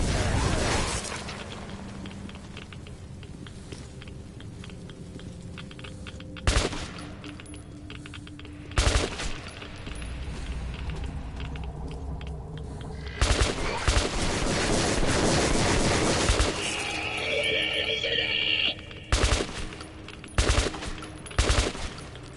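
Gunfire in the video game Metro 2033 Redux: loud, close bursts of automatic fire that break out repeatedly and cluster into a sustained barrage in the second half.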